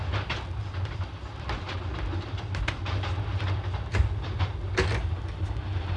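A train rolls steadily along the rails in a Turkish setting, a continuous low rumble with a few sharp clicks and clacks from the wheels and carriage, constant and fairly close throughout, with no talking.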